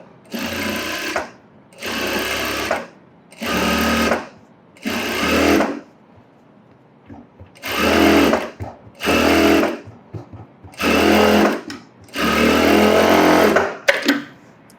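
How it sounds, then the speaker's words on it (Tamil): A sewing machine stitches net and lining blouse fabric in eight loud, close bursts of rapid mechanical whirring, each a second or two long, separated by short quiet pauses. "அதை கனெக்ட் பண்ணிவிட்டு தையல் போடுறேன்"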